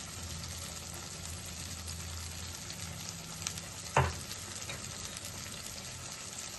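Masala paste for a paneer curry sizzles and fries steadily in a pan with a broad, constant hiss. A single sharp clink of a utensil cuts in near the middle.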